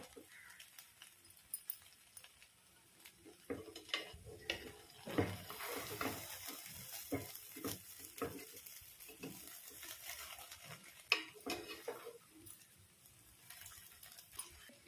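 Shrimp biryani with sorrel greens is gently mixed in a pot, giving quiet irregular scrapes, soft clinks and light rustling from the rice, close but low in level.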